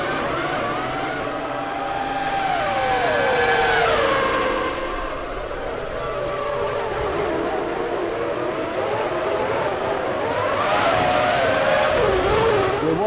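Formula One car from the F1 2003 video game leaving pit lane at the Austrian Grand Prix, loud sustained engine whine with pitch sweeps as it shifts and accelerates, over constant race-track engine noise.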